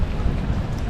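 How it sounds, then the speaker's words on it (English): Heavy summer rain pours down in Stockholm, a dense, continuous broadband hiss with low rumbling underneath, close and loud. "but the sun has gone and the rain is here."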